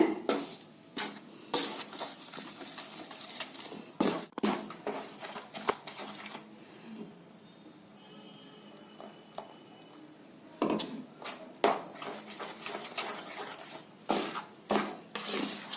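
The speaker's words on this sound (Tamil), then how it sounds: "அந்த மாவில் கொஞ்சம் கொஞ்சமாக ஊற்றி பாகு ஊற்றி கலக்கிக்கலாங்க" Rice flour being worked together with jaggery syrup for maavilakku, heard as intermittent soft scraping and clattering bursts from a bowl, close and fairly quiet, with a hushed stretch in the middle and no talking.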